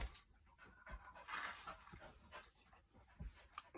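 A dog pants quickly and steadily, with soft whimpers and whines breaking through now and then. It sounds close but quiet, and no one speaks.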